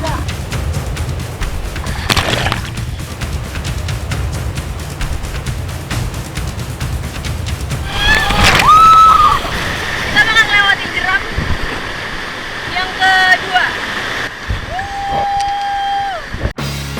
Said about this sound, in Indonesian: Derasnya arus sungai membuat perahu seringkali berputar, menabrak batu, bahkan tersangkut.